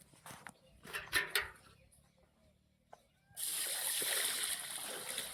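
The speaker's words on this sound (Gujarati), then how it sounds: "પાણી નાખો" Water poured in a steady, loud broadband rush that starts abruptly midway and keeps going, after a few softer splashes and thuds, outdoors in a village while khichdi is being prepared.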